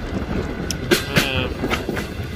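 A Pakistan Railway passenger train on the Lahore to Karachi route runs along the tracks with a steady rolling rumble and a few sharp rhythmic clacks of wheels over rail joints.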